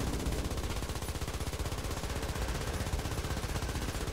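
Sustained automatic gunfire in War Thunder, a rapid, even machine-gun rattle firing steadily for several seconds at moderate loudness, with no talk.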